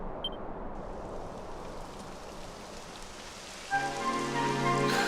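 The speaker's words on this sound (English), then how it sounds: "Typical. It would have to go and start raining, wouldn't it?" Rain patters steadily on surfaces in the Dragon Quest XI S video game, a soft, even hiss that grows a little louder and brighter near the end as a musical tone enters.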